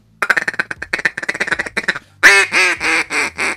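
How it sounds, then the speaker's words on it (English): A handheld duck call is blown close up, first in a quick run of short clucking quacks, then in several loud, drawn-out quacks, heard alone. "Yes, there's a duck call in there."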